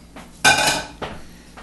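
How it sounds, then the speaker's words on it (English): A utensil clinks and scrapes against a pot while stirring a Cuban cheese empanada filling: one loud clattering stir, then two lighter knocks, close by with no talking. "So I'm just going to stir it up."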